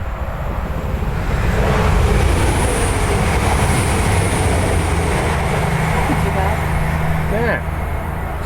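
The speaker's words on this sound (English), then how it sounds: "train's about to come by, so you'll get an idea what it sounds like here" A train rumbles steadily past a canal mooring nearby, a loud continuous roar of rolling wheels with a faint high squeal, lasting the whole stretch.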